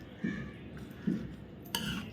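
A spoon stirring a grated amla gooseberry mixture in a pot just uncovered after simmering: three faint, evenly spaced scraping clinks against the metal, quiet and close.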